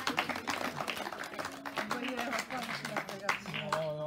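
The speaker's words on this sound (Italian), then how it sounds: "Ancora un applauso." Applause from a small gathering at a farm in Greve in Chianti, quick scattered hand claps mixed with voices talking and calling out over them.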